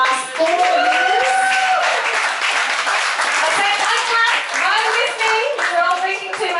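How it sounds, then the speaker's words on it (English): An audience at a charity jungle ride event claps and applauds while many voices, including children's, chatter and call out over it, loud and close throughout. "Don't clap yet while Stewie's walking up"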